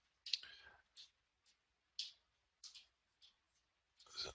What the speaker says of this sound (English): just typing something really quick.